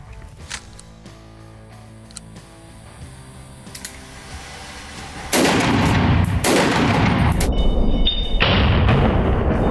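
Browning BLR lever-action rifle in .308 Winchester firing outdoors: after a quieter stretch, a loud sharp report at about five seconds is followed by several more heavy, spaced shots with ringing tails.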